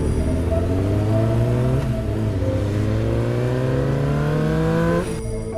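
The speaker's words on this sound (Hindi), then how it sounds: "बाबा बाइक भगाने लगते हैं" Cartoon motorbike accelerating hard, a loud, close engine whine rising steadily in pitch through the gears for about five seconds before cutting off abruptly.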